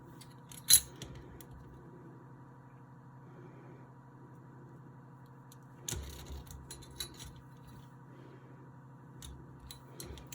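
A blade cuts off the end of a polymer clay leaf cane, giving a sharp click early on and another crisp cut later, faint and close over a quiet electrical hum with scattered soft handling noises.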